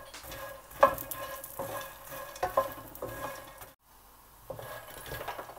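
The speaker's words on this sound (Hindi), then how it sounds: "हल्की आंच पे इनको 3 से 4 मिनट तक हम रोस्ट कर लेंगे।" Fox nuts (makhana) roasting in a pan over low heat, giving a steady dry rustle and scrape with a few louder stirring knocks against the pan, close and alone, briefly dropping out midway.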